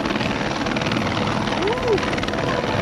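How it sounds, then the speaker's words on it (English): Helicopter flying in fast to land at Namche in the Everest region, a loud steady rotor roar throughout with a brief swell near the end, a voice faintly under the engine. "Second chopper coming in fast."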